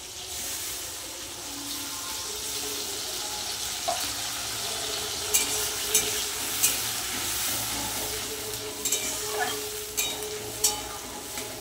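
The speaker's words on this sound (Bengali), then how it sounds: "এবার ভালো করে মশলাটা একদম সুন্দর করে কষিয়ে নেব, একদম শুকনো শুকনো করে।" Ground paste of green and red chillies, ginger, garlic and onion sizzles and fries with tomato in a pan while being stirred for a rohu fish kalia, a steady close frying hiss with occasional scraping clicks.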